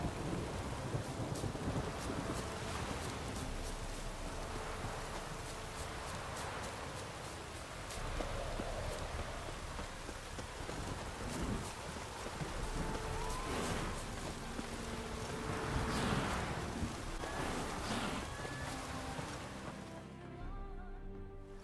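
A thunderstorm rolls through in The Witcher 3: Wild Hunt, with steady heavy rain and wind and several deep thunder rumbles swelling and fading, and no talking until it tapers off at the very end.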